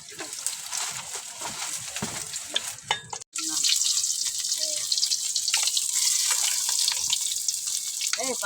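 Bottle gourd frying in hot oil gives a steady, dense sizzle, broken by a brief drop near the middle, then a continuous loud crackle with scattered stirring clinks.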